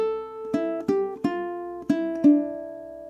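A low G ukulele plucks a bar of Bach's Bourrée, a handful of clear fingerpicked notes in a measured rhythm, each ringing out close and bright before the last note sustains.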